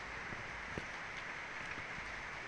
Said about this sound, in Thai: อากาศร้อนหลายฝนตกแล้ว